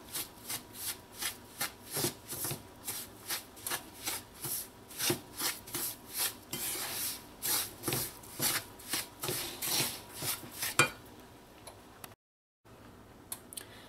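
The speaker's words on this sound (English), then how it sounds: "I'm going to add some more ghee to this. I'm going to mix this in." A spoon or spatula scrapes rhythmically through cream of wheat parsad as ghee is mixed in, a steady series of close, gritty strokes about twice a second that stops near the end.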